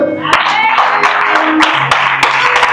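A church congregation claps rhythmically to acclaim the Lord during family prayer, sharp claps repeating roughly every third of a second over steady voices and singing.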